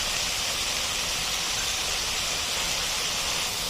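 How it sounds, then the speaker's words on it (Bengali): Vegetables frying together in a pan with a pinch of black pepper, a steady close sizzle and hiss with no talk. "এগুলো এখন আমি সবগুলো একসাথে দিয়ে ভেজে নেব"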